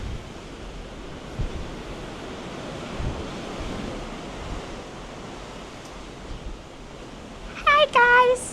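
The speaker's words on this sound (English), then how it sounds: "the majestic sea rages on" Sea seen from the deck of the Norwegian Bliss cruise ship in Alaska, a steady broadband rush of waves and wind buffeting the microphone, with a brief voice near the end.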